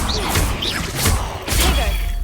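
Incendio fire spell cast in Hogwarts Legacy, a loud burst of whooshing flame with crashing impact hits, repeated in a couple of close, dense surges over about two seconds.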